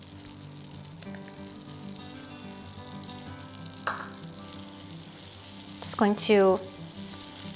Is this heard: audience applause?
no